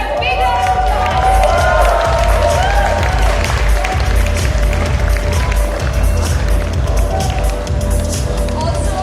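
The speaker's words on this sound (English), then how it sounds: "Guys, can we hear a big round of applause?" A crowd at the YouTube FanFest creator camp in India, 2017, applauds and cheers: loud, continuous roaring claps and shouts, with music and voices mixed throughout.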